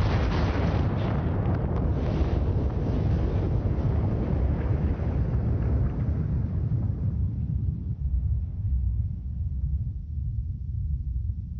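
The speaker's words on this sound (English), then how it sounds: "They call it a supernova, an explosion so bright it outshines entire galaxies." A supernova explosion rendered as a cinematic sound effect: a deep, loud rumbling blast that slowly fades and darkens over about ten seconds, with no voices.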